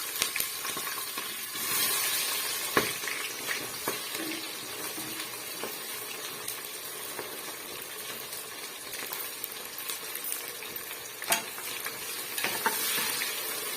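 Chopped onions sizzle steadily in a hot pan, with occasional scraping and clacking as they get stirred.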